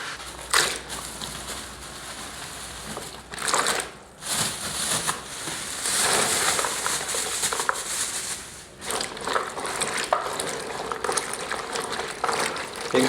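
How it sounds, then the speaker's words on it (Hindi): Two kilograms of okra being washed by hand in water, a steady splashing and rubbing churn close by with brief pauses, and someone talking over part of it. "इसको हम असी अच्छी तरह धो लेने पानी के।"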